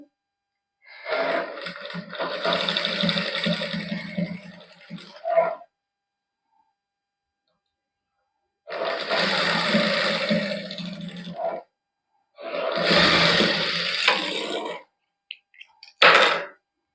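Sewing machine stitching lace onto a suit sleeve, running in three steady whirring bursts separated by silent pauses, ending with a short final burst.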